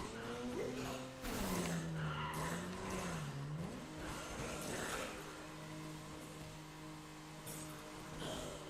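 A car skidding as it is driven in the video game Dead Rising 2: engine hum with wavering tire squeals that bend up and down, then a steadier engine drone, at a moderate, fairly quiet level with no talk.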